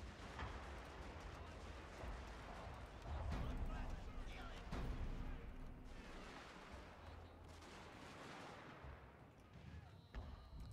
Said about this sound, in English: we got one more bombardment coming our way